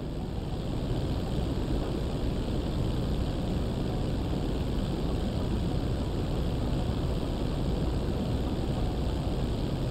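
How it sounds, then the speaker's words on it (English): Large Antonov-style cargo plane in GTA 5 flying steadily, a continuous loud broadband engine and propeller roar with wind noise, unbroken and constant throughout. "that plane is based on a Antonov, I think, in real life, which is a Russian plane"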